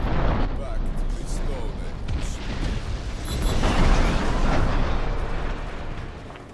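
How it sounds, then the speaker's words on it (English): A GE64 explosive bringing down an antenna tower in Just Cause 3, a loud, broad rumbling blast that swells and rolls on for several seconds, with crackling debris and a deep sustained roar. "place one GE64 explosive anywhere on the tower and explode it"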